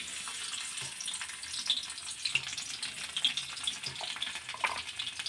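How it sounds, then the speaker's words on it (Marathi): Cumin and finely chopped garlic fry in hot oil with a steady close sizzle and crackle. Small pops scatter through it, and no one talks. "लसूण थोडासा परतून घ्यायचा तेलामध्ये"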